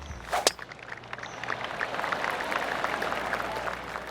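Golf ball struck in PGA Tour 2K25 at TPC Louisiana: a single sharp whip-like crack near the start, followed by a swelling crowd murmur and applause that carries on to the end.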